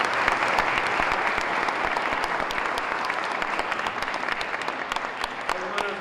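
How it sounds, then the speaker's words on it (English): Sustained applause from a crowd at the Rhode Island State House, dense steady clapping that holds at an even level for several seconds with no pauses. "I want us to give them a loud applause"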